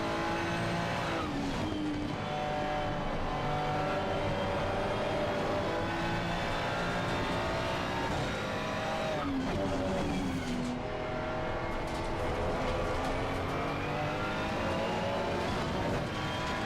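A McLaren Artura race car laps the Kyalami circuit in a racing video game, its engine revving and shifting continuously with rising and falling pitch sweeps and brief tire squeal, loud and close throughout.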